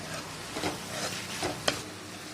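Prawns cooking with ginger garlic paste in a pan, a soft sizzle broken by a few stirring scrapes and one sharp clink.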